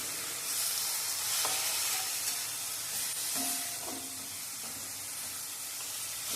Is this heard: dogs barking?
no